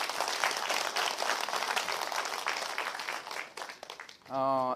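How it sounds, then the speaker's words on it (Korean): A crowd at a factory-visit event claps in a strong, dense burst that gradually thins and fades, followed at the end by a short sung or sustained voiced tone. "박수 좀 부탁합니다."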